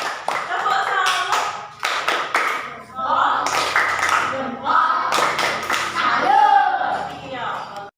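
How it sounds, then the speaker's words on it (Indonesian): Group clapping for a student group during a classroom science lesson, in bursts of taps and claps mixed with a teacher's voice and chatter across the whole stretch. "Tepuk tangan."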